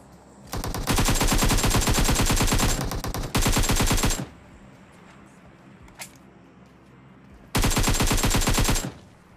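Machine gun fire in a battle royale video game with an M249, AKM and M4: loud rapid bursts of several seconds each with a short pause between them, then a lone faint shot and a final burst.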